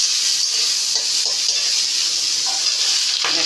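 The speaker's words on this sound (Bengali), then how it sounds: "এই যে চিংড়ি মাছটা একটু একটু ব্রাউন রঙ হচ্ছে, তার মানে আমার চিংড়ি মাছটা ভাজা হয়ে যাচ্ছে" Shrimp frying in a pan before Bengal arum leaves are added, giving a steady loud sizzle throughout with a few soft stirring scrapes and no talking.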